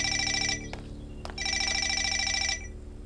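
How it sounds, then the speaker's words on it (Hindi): A telephone rings in two electronic bursts with a short pause between them, fairly loud, over a low steady hum with no talking. "फोन बज रहा है, जरा देखो कौन है।"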